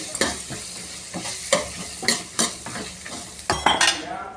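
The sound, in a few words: okra with ginger garlic paste cooking in oil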